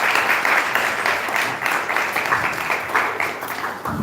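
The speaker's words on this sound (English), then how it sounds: "Please clap your hands together for volunteers." An audience at a university entrepreneurial summit applauds for volunteers, producing a loud, dense, sustained round of clapping that swells and eases slightly over several seconds.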